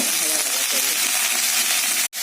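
Loud, steady sizzle of bottle gourd and vegetables frying with turmeric and salt in a hot pan, ending with a short sharp clatter.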